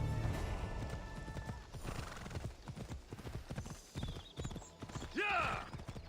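Horse hooves in Assassin's Creed Odyssey clip-clop in a steady galloping rhythm, close and clear, ending with a loud whinny near the close.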